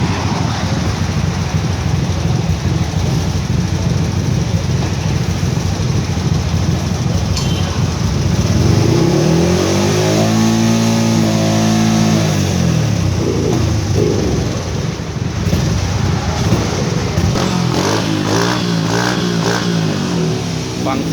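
A motorcycle fitted with an APITECH fuel injection conversion kit idles loudly and revs up and down several times, engine pitch swooping in smooth waves throughout.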